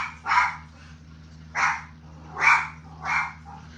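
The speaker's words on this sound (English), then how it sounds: "Lily, somebody better be walking up on that porch while you doing all that barking." Dog barking indoors, four loud separate barks spaced about a second apart over a faint steady low hum, no talk.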